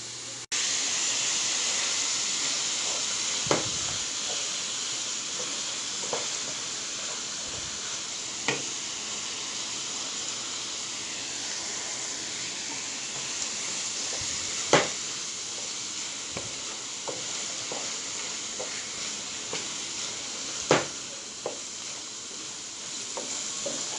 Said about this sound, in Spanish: Ahora le voy a agregar las salchichas.